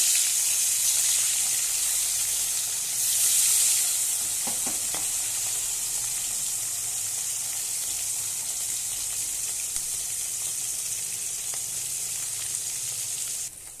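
Steady, loud frying hiss of hilsa fish in oil throughout, with a brief clink or two of utensils partway; no one speaks.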